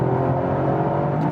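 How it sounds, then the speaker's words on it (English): Toyota GR Yaris engine blipping its throttle on a downshift in iMT mode on a wet road, a steady close engine whir with a slight rise in revs, no talk. "I have the IMT mode activated. This gives us some throttle blips."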